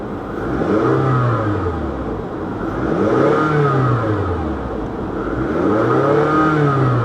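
A Ford Mustang on air ride at an auto show, its engine revving in three rising-and-falling swells, loud and close, with a steady rumble between each blip and no talking.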